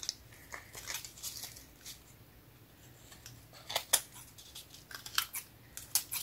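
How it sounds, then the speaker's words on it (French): Scissors trimming excess paper from a handmade scrapbook embellishment made from a paper roll, a series of crisp close snips in uneven bursts with quiet gaps between. "on va juste couper ce qui dépasse pour faire un petit peu plus beau quand même"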